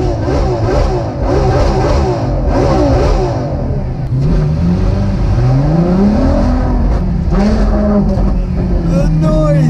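A Ferrari LaFerrari hybrid V12 revs hard in first gear on an unfamiliar rally-style road, loud and close from inside the cabin, with rising and falling engine pitch sweeps under excited conversation.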